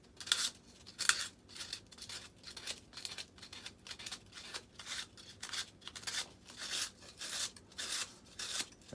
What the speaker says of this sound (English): You just take that piece of 60 grit dry and just kind of smooth it up there a little bit.